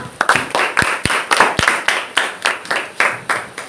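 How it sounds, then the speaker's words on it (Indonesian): A small classroom group claps for a student, distinct rhythmic handclaps repeating in an uneven beat, close and fairly loud, with a few sharper slaps standing out. "kita berikan tepuk tangan untuk Marta."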